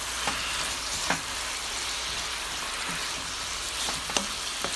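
Green onion shallots fry in a pan for beef teriyaki, giving a soft, steady sizzle with a few sharp stirring clicks and scrapes scattered across it, fairly quiet and with no talking.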